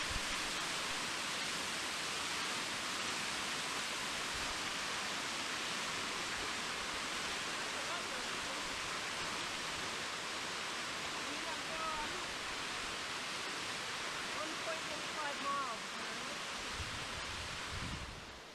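A steady, powerful roar of falling water fills the air at Winter Falls, where spray drifts across the trail; the wash holds unbroken for the whole stretch, with faint voices nearby.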